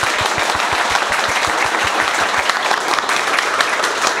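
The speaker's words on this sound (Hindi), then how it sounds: "यहां पे एक बार जोरदार ताली।" Loud, dense applause from a room full of students at a training batch session, steady rapid clapping filling the whole stretch without pause.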